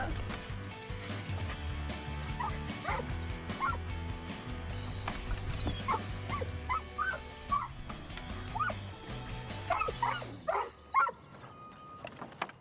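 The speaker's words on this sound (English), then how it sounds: "Dog's totally coming. I know it." A dog yips, whimpers and gives short barks in scattered bursts over a low rumbling background, fairly close, with a few louder yelps toward the end.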